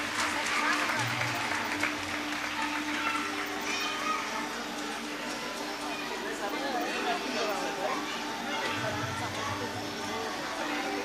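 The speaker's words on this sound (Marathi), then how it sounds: "सुरेश पाटील यांच्यासाठी एकदा जोरदार टाळ्या" An audience at a children's award ceremony claps for Suresh Patil, a steady mid-distance patter that runs the whole time with children's voices and chatter mixed in.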